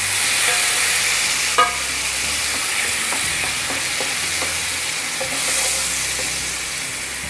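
Grated tomatoes hit browned onions in a hot pan for a Shahi Kaju Paneer masala, giving a steady loud sizzle throughout with a few stirring scrapes and clinks, no talking.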